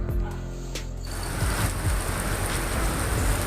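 Heavy monsoon-style rain pours steadily outside during a shopping trip in India, a dense continuous hiss with low rumbling underneath that grows louder after the first second.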